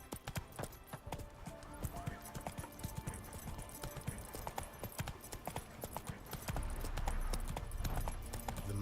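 Horse hooves clatter in a quick galloping rhythm from The Witcher 3 video game, the steady clip-clop building louder near the end, with faint game sounds underneath and no talking.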